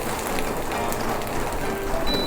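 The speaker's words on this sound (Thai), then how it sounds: "ยิ่งฝนตกพรำๆแบบนี้ค่ะ" Light drizzling rain patters steadily on a surface, a soft continuous hiss with scattered faint drops and small clicks throughout, heard alone without talk.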